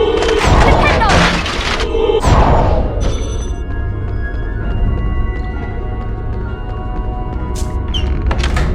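Spell effect from the Harry Potter and the Chamber of Secrets PS1 game: loud booming impacts and crashes open the clip, followed by a sustained rumbling wash with ringing tones, and a voice speaks over parts of it.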